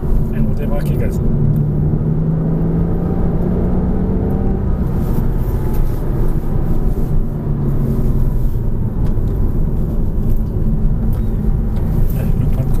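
A car engine drones loud and steady at full throttle on a track, its pitch climbing through the gear before settling into a continuous roar, with an instructor's voice speaking over it.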